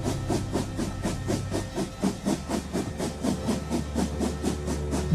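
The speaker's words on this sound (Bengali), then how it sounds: "ধোঁয়ায় চারদিক আচ্ছন্ন করে নাকের ডগা দিয়ে বেরিয়ে গেল ট্রেনটা" A steam locomotive pulling a single carriage rushes through woodland in a dramatized story, giving rapid, evenly spaced chuffs with hiss over a low, steady rumble, loud and close throughout.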